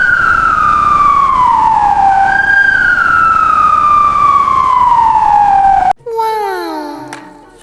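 A loud fire engine siren wails alone in long descending sweeps, then cuts off abruptly and switches to a shorter, brighter rising-and-falling tone for the final seconds.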